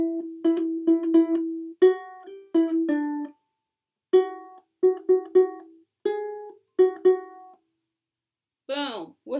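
Ukulele plays a song, picking short clusters of repeated notes in separate bursts with brief silences between, close and clear, ending with a higher squeaky flourish.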